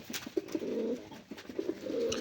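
Kaldam pigeons coo nearby, two rounds of low throaty coos separated by a short pause, fairly close and quiet, with no voices.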